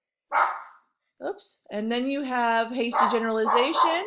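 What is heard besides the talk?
dog barking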